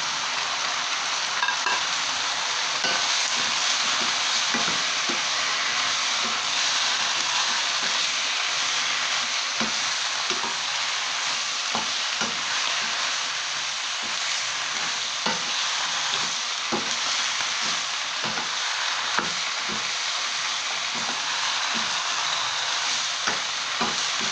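Chinese kale stir-fries with crispy pork in a hot pan, a loud, constant sizzle and hiss with frequent rhythmic scrapes and tosses of the spatula throughout.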